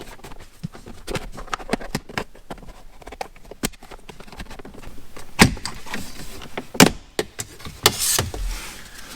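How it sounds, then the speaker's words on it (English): Plastic shifter trim being pried off the console of a 2017–2018 GM Colorado, a string of irregular sharp clicks, snaps and pops close by, growing louder near the end as the clips release. "Go ahead and pull the trim off."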